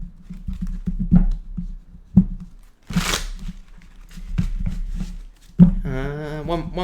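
Tarot cards are shuffled in a few quick riffles and taps, close and fairly quiet, with short pauses between bursts and a brief voice near the end.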